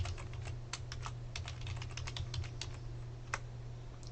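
A password is typed on a computer keyboard as a quick, uneven run of close, crisp key clicks over a low steady hum.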